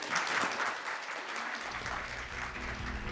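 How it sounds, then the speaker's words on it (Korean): A forum audience gives a long round of steady clapping after a panel discussion on training future talent. The applause is dense and sustained, with a low hum underneath in the later part. "다시 한번 큰 박수를 부탁드립니다"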